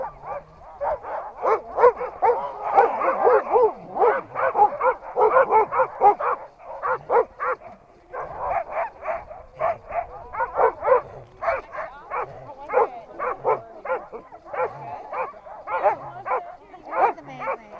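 Sled dogs in the Alaskan snow barking, yipping and whimpering almost nonstop, a dense excited chorus of close, rapid calls for the whole stretch.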